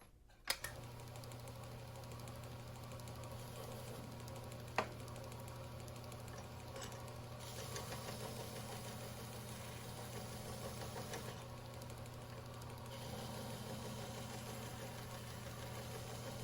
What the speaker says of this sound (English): The final step is moving on to a felt belt, and we'll use some white buffing compound.